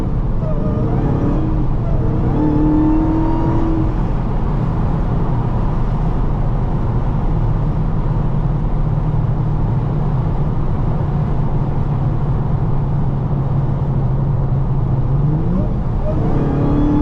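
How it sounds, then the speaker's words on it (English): A Dodge Charger Daytona Hellcat cruises on a highway, its steady, loud engine and road drone filling the cabin while a faint supercharger whine rises and falls on top, with no talking. "You can hear that supercharger whine."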